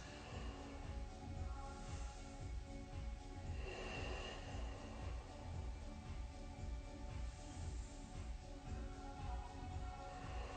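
Slow deep breathing during a home yoga flow, steady inhales and exhales repeating over a low continuous background, close and fairly quiet with no talking.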